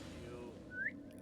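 A character whistles in an Assassin's Creed game: a single short rising whistle, brief and fairly clear, over steady game background noise.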